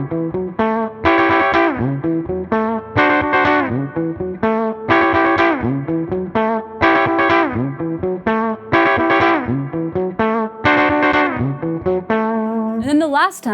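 Electric guitar playing a rhythmic chopped chord pattern with short choppy stabs, played clearly and alone with a slightly driven tone.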